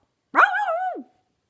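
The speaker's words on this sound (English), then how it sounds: "The dog began to bark." A dog gives one clear, close bark with a slightly whining, drawn-out tone, standing alone in silence.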